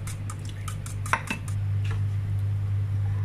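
Crepe batter loosened with milk is whisked in a bowl, giving a quick run of light clinks and taps from a utensil against the bowl over a steady low hum, with a brief louder knock midway.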